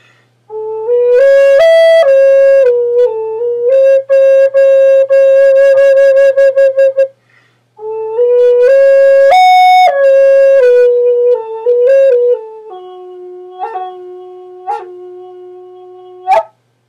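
A breathy wooden Native American flute plays a freestyle, wandering melody of sustained and sliding notes, with a short pause midway and a softer phrase of repeated tones near the end.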